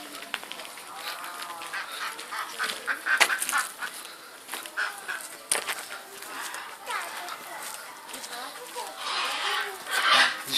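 Large parrots, cockatoos and macaws, squawk and screech in harsh, scattered calls at a zoo, some close and loud, while people talk nearby.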